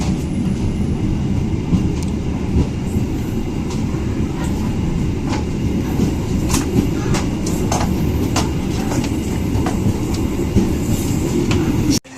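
Sri Tanjung passenger train running on rails, heard from inside a carriage as a loud steady rumble with faint clicks of wheels over joints, continuous until a sudden cut at the end.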